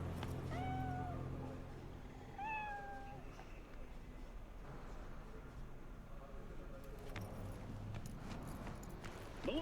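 A cat in Cyberpunk 2077 meows twice in quick succession near the start, both clear and close, over a low game ambience that carries on afterward.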